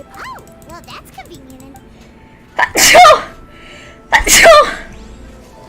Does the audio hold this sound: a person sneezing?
yes